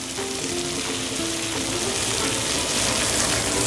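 Capsicum sizzling and frying in a pan with mushrooms, a steady, dense crackle that stays loud and close throughout with no talk.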